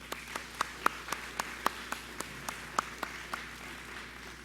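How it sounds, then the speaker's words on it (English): At a graduation commencement ceremony, an audience claps sparsely: about a dozen separate, evenly spaced claps ring out over a quiet hall, with no voices. "Graduates, please join me in giving our families and special guests a round of applause."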